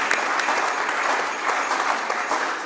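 An audience at a book launch claps steadily in a dense, even round of applause, with no speech over it.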